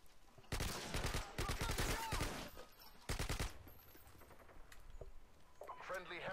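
Bursts of rapid automatic gunfire in the video game Call of Duty Modern Warfare 2, two loud clattering volleys followed by quieter scattered shots and a brief voice near the end.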